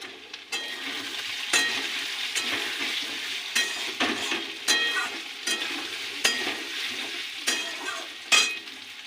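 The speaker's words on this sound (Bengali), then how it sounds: "তেল ছিটে সব হচ্ছে হবে।" Potatoes frying in hot oil for a quick aloo dum, with a steady close sizzle and spatter, punctuated by several sharp clinks and scrapes of a utensil stirring in the pan; no talking.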